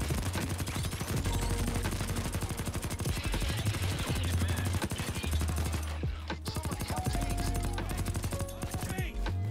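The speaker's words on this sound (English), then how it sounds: "Where am I getting shot from?" Rapid automatic gunfire in the video game Payday 2, with dense bursts of shots fired close and loud that go on almost without pause and dip only briefly before resuming.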